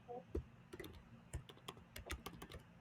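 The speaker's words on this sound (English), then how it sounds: "I am typing." Quick, irregular clicks of typing on a computer keyboard, scattered taps and short bursts close to the microphone, quiet and without talking.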